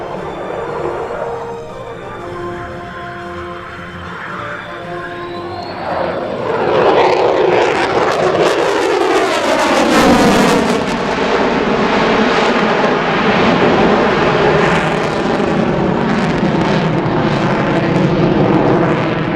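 F-22 fighter jet with 70,000 pounds of thrust flying a demonstration maneuver at an airshow, a loud, rising roar that sweeps past with a strong pitch shift and continues as a sustained, powerful rumble.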